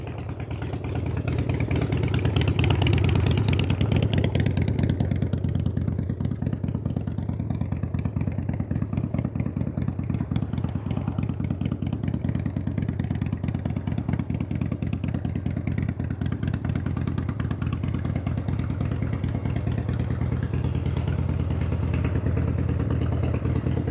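A 1993 Harley-Davidson Evo motorcycle engine runs steadily for a long stretch, a close, even mechanical throb with a light clattering edge and no voices over it.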